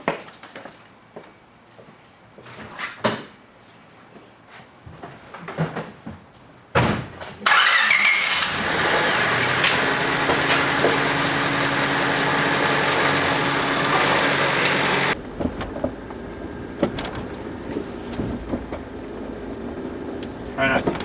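A 1997 Honda Civic engine cranks and catches with a sharp burst, then idles steadily and loud for several seconds before dropping back, with faint talk and handling noises before and after.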